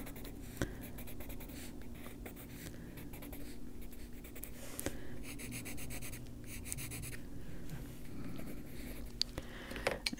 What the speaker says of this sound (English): I'll take a darker pencil and put some wood grain into it